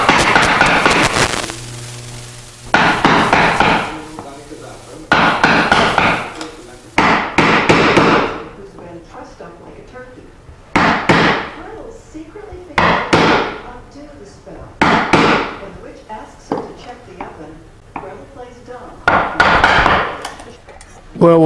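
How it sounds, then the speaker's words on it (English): Hand chisel struck with a mallet while chopping out the waste between wide dovetails for a wooden step stool, giving a steady series of sharp, loud knocks at regular intervals, close up. "we can use a much wider chisel here, because the tails are 1 3/8 inches"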